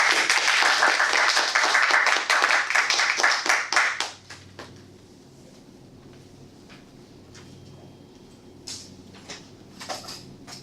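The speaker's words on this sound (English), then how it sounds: "we can clap" A room of people at a Toastmasters club meeting claps together for about four seconds in dense, loud applause, which then stops abruptly, leaving a quiet room with scattered faint noises.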